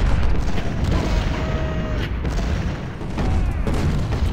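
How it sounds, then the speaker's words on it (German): Civil War cannon boom within a dense, continuous roar of battle in Ultimate General: Civil War at Laurel Hill, with distant thuds and gunfire layered into a steady, loud din. "Kanone bitte ins Zentrum schießen."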